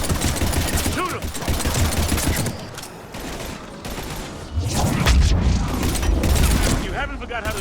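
Dense automatic gunfire and blasts from a Mass Effect 3 firefight against husks, loud and nearly continuous, easing briefly midway before another heavy burst, with soldiers' voices shouting over it.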